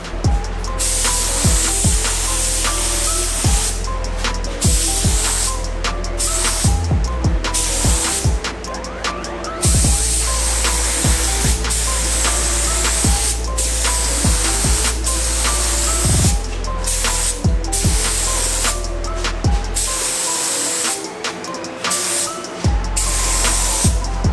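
Steady spray-gun hiss laying the first coat of paint on motorcycle fairings, with continuous bursts broken by short pauses and background music running underneath throughout.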